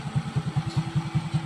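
Honda XRM 125 carburetor-type motorcycle with a newly fitted exhaust pipe running at idle, a close, even low-pitched putter of regular exhaust pulses, steady and unbroken, with no talking.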